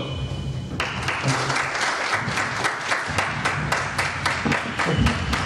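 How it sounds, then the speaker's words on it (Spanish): Steady, dense applause from an audience welcoming a guest speaker at a university science lecture event, sustained clapping filling the whole stretch with sharp individual claps standing out near the listener. "Recibamos con un fuerte aplauso al doctor."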